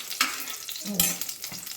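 Dried red chilies sautéing in a pan, a soft sizzle broken by a few clattering stirs of a spatula, close and fairly quiet with no voices.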